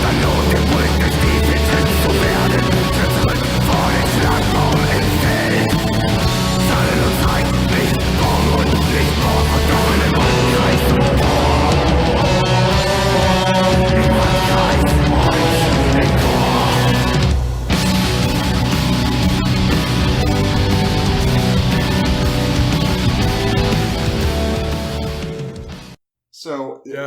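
A black metal album excerpt plays back at full volume as a dense, continuous wall of distorted guitars and drums, with only one brief dip before it cuts off at the end.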